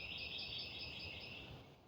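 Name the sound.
birds singing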